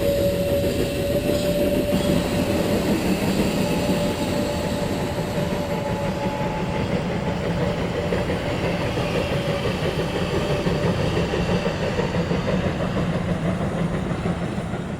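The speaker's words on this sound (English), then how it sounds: "the train approaches the first rack and pinion section" Steam train of the Furka mountain railway in Switzerland working up a steep rack and pinion section, a continuous heavy mechanical rumble and rhythmic chuffing with clanking, loud and close, steady the whole way without speech.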